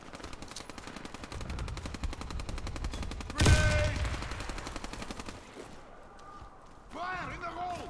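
Rapid automatic gunfire rattles in a video game, a dense burst of shots leading to a loud blast, with a voice talking near the end.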